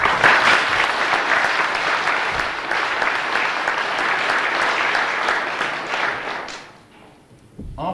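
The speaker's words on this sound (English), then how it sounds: "Can we just give him a clap?" A village church congregation claps warmly for the long-serving organist, loud, even applause that fades out near the end.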